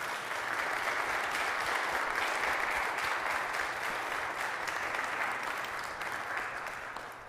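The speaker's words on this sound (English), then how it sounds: "let's give them a big round of applause" Sustained applause from a crowd, steady and dense throughout, tapering slightly toward the end.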